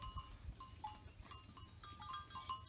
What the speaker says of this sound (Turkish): Koyun değil, keçi pardon.